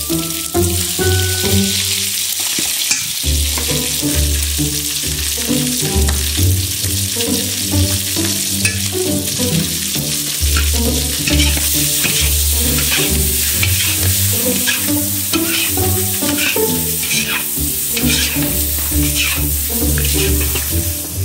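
Liver and heart frying in a pan on a homemade stove, a loud continuous sizzle with the scrape of stirring running through it while steady background music plays.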